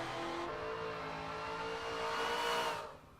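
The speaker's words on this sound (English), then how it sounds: "Listen to how loud the supercharger is under power." A supercharged muscle car in the Forza 7 racing game accelerates under power. Its engine howls with a prominent supercharger whine that rises in pitch, then eases off near the end. The sound is loud and close, with no talk.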